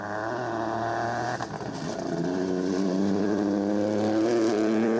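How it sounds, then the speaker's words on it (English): Rally car engines roar continuously at the WRC Safari Rally in Kenya, a loud, sustained mechanical rumble with shifting revs and scraping undertones, close by. "The thunder of engines and the roar of the crowd are the sounds that define the WRC"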